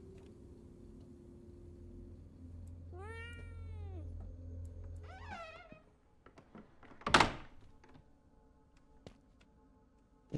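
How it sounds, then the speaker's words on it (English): A cat in a video game meows twice in long, rising-and-falling calls over a low ambient hum, followed by a sharp thump and some faint shuffling. "It's such a cute little kitty cat."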